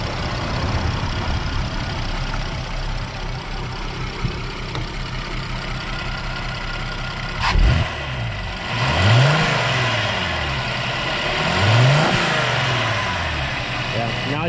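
A 2010 Volkswagen Passat R36 engine idles steadily, then revs up loudly several times, each rev rising and falling in pitch before settling back to a rumbling idle.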